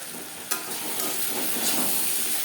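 Spices being stirred into fried onion and tomato in a pan for a Bengali doi katla curry, a steady close hiss of sizzling with a sharp scrape near the start and soft stirring scrapes throughout.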